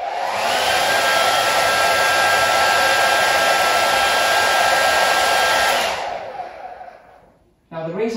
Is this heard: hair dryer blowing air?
yes